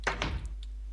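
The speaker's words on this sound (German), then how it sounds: "Und wenn man die Tür zumacht" A toilet cubicle door swinging shut, a couple of quick close thumps followed by a faint latch click, short and near, with no talk.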